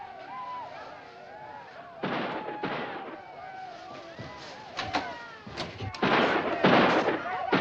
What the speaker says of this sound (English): Shooting Indian town!